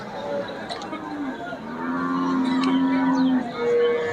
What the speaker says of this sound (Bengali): এই পাশে দেখুন আমরা একটি ষাঁড় গরু দেখতে পাচ্ছি মাঝারি সাইজের।